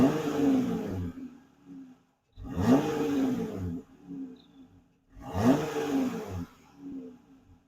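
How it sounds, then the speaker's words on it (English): 2023 Jeep Gladiator running, its exhaust giving three separate deep revs that rise and fall, each with a throaty roar, with idle quieter between them, heard up close. "let's go ahead and listen to this exhaust"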